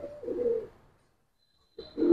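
Giribaz pigeons of an old breed give two short, soft coos nearby, separated by a moment of near silence.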